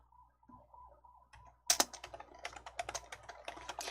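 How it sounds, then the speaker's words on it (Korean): Keys clatter on a computer keyboard as Alt-C is pressed, starting with soft taps and then a sharp click followed by a quick run of typing strokes, close and clear over a faint hum. "키보드 Alt-C 눌러보실게요."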